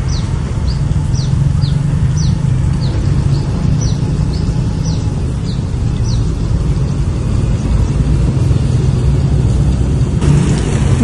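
A bus travelling along a road in Putrajaya, Malaysia, heard as a steady low engine and tyre rumble lasting about eleven seconds, with birds chirping repeatedly in the background.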